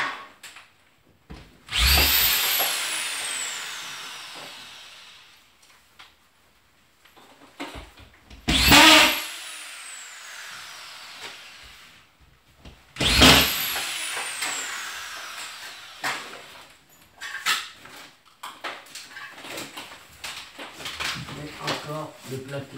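A drill drives screws while a house is insulated with glass wool and hydro board: three sharp whirring bursts with rising whine, plus scattered clunks and handling noise, while people talk.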